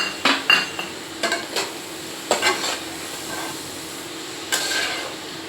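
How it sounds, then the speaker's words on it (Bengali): Vegetables being stirred with a homemade spice mix in a pan: a few sharp scraping strokes in irregular bursts over a soft background hiss. "এই যে দেখো এখন ভালো করে নেড়ে নেব।"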